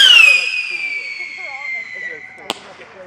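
Fireworks bursting nearby: a descending whistle trails off over a few seconds, then a single sharp crack lands near the end, with a person talking faintly underneath.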